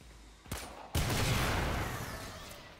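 Gunfire destroying coolant cells in the video game Warframe: a sharp shot followed by a loud blast that rings out and slowly decays, close and dense.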